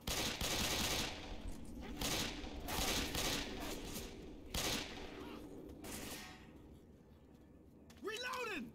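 Repeated pistol fire in the video game Left 4 Dead, dense bursts of loud shots in uneven clusters over a busy game background, with a voice speaking near the end.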